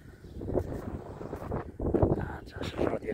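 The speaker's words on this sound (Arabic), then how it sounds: "شويه الريح كي ما تخلينيش نشد مزيان" Wind buffeting a handheld microphone outdoors on a walk near a hillside hermitage, a continuous rumbling roar with gusty swells, loud and close, with no clear voice over it.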